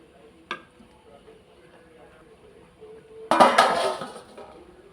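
A lid clatters onto a cooking pot of chicken on the stove, one bright metallic clank with a short ringing tail after a faint earlier tap and quiet kitchen background.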